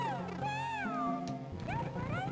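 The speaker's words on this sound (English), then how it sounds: "I hear my cat meowing" A house cat meows indoors in a drawn-out, wavering call, then a second rising meow, close and clear with no other sounds.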